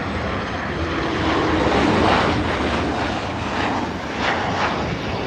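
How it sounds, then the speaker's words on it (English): A Boeing 737 jet airliner arriving on a sunny day makes a loud, steady engine roar that swells and fades slightly, heard alone. "let's dive into the action and watch this 737"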